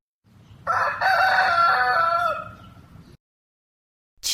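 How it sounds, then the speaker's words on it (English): A rooster crows once, loud and close, a long drawn-out cock-a-doodle-doo over a low background rumble, followed by a short burst of sound right at the end. "Rooster."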